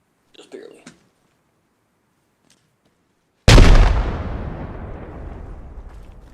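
A grenade goes off after a brief shout and a long quiet pause, one sudden heavy blast with a deep boom that rolls and fades over several seconds.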